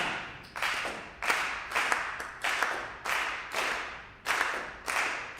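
An audience claps a tresillo rhythm together during a lecture on Afro-Cubano piano: repeated groups of sharp, fairly close hand claps in an uneven 3-3-2 pattern, with a brief gap before the phrase starts over.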